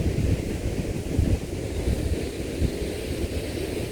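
Low, blustery wind rumbles steadily against the microphone, a dull roaring buffeting with occasional stronger gusts and nothing else standing out.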